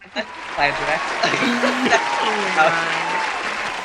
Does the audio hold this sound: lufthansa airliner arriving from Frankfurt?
no